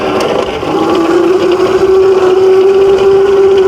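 A 48-volt Qwayq Em40 electric dirt bike climbs uphill off-road with a close, loud, steady electric motor whine that rises slightly in pitch and then holds, over rough rolling and wind noise.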